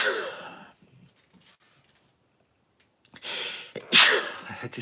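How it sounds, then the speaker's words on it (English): A single indoor sneeze, with an inhale at the start, a quiet pause and then the sharp burst near the end, close to the microphone. "I had to sneeze, in case you couldn't tell what that was."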